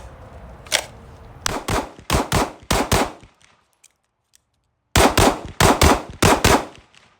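Gunshots from a chambered firearm at an outdoor range: a fast burst of about five sharp, loud cracks, a quiet gap, then another burst of five or six shots close to the listener.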